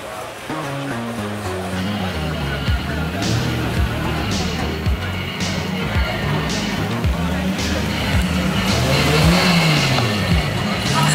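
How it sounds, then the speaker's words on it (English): Cars pull up at an evening car meet, engines rumbling and revving in short bursts nearby with passing tire and exhaust noise, people chatting over the steady traffic sound. "There's some beautiful cars rocking up."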